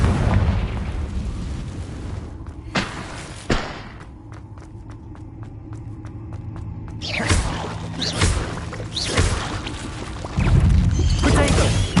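Confringo blasting spells explode in the Hogwarts Legacy video game, several loud booming bursts amid game combat noise, with a tinkling musical stretch in between and no talk.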